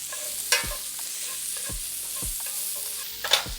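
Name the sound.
onions browning in olive oil in a hot pan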